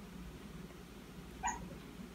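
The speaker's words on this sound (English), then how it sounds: "that's my dog dreaming" A single brief, high-pitched whimper from a dreaming dog cuts through quiet background hum, faint and short.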